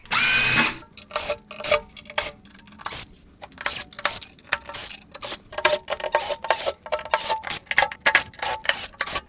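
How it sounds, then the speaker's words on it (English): A power drill backs screws out of the lid of a Li Time 48V 100Ah lithium golf cart battery. The sound comes as a loud whirring burst, then a series of short, close buzzes and rattles with brief gaps between them. Nobody speaks. "we got all those screws removed"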